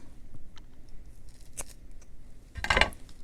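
Scissors cut paper for a mermaid-themed journal craft: quiet paper handling first, then one crisp, close snip near the end.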